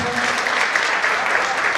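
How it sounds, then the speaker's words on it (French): A theatre audience applauds steadily, dense clapping filling the whole stretch at a constant loud level with no pauses. "Est-ce qu'on peut l'applaudir encore?"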